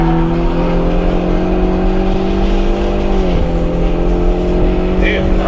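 Steady, loud in-cabin engine note of a 2024 Ford Mustang EcoBoost lapping a track. Sustained revs dip briefly midway as a gear change drops the pitch, then the drone carries on.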